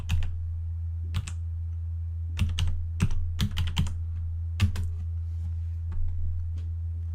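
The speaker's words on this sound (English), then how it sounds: "one easy way for a beginner to do this is to simply type in slack.com" Keys clacking on a computer keyboard in short irregular bursts of a few quick taps, near and clear over a steady low electrical hum.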